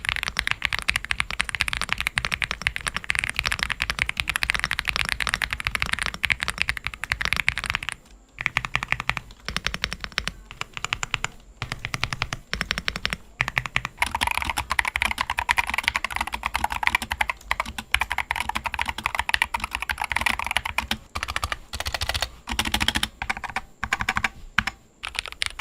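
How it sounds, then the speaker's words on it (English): Steady, close-up typing on a gasket-mount hot-swap custom mechanical keyboard, with dense rapid keystrokes giving a soft thocky sound and a few brief pauses between bursts, with no talking. "This is common in custom built keyboards, which makes typing a lot smoother, along with providing a more satisfying sound."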